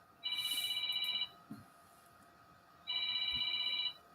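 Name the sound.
phone ringing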